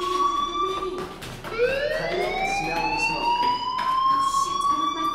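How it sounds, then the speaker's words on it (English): Fire alarm in the video game Life is Strange, a loud continuous electronic tone that sweeps downward then climbs and holds steady, ringing on alone without pause. "do you hear that fire alarm?"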